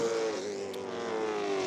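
A Chevrolet race car on a CARS Tour short track at Dominion Raceway, on its qualifying run, its engine a steady sustained drone with a slowly falling pitch as it travels the circuit, loud and alone throughout.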